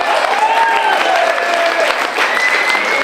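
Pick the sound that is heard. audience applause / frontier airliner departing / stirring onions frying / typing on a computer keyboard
audience applause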